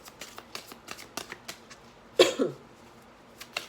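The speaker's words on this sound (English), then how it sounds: "Let me go ahead and get some cards off of the Angel Answers deck by Doreen Virtue." An Angel Answers oracle card deck being shuffled, a quick run of light, crisp card riffles and taps recorded close, briefly broken by a cough partway through.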